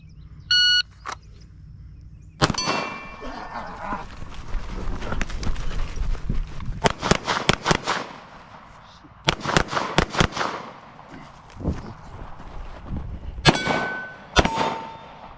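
Sharp gunshots at an outdoor shooting range, several single cracks and rapid bursts spread over the stretch, close and loud, with a beep at the start and people talking between shots.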